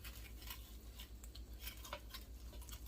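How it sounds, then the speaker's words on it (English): A pizza cutter rolling through oxtail fajitas sitting in a pan, sliced into threes: faint, quiet scrapes and light clicks of metal on the pan, repeated in short strokes with no talking. "We have a pizza cutter, and we're just going to cut them"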